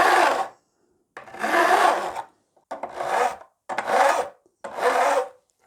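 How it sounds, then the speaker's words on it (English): Five distinct rasping strokes of a file sound at close range, each lasting about a second with short pauses between, as a file bevels the fret ends on a guitar neck. No one speaks. "And just bevel those back a bit."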